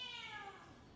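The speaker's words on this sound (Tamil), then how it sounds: "அதனால் ஊரில் இருக்கிற கடா பூனைக்குட்டி எல்லாம் எங்கள் வீட்டை தேடி வந்துட்டுருக்காங்க" A single tomcat yowls from outside a house in a Tamil village, one drawn-out, wavering meow that slides downward and trails off, fairly close against faint background noise, with no one talking.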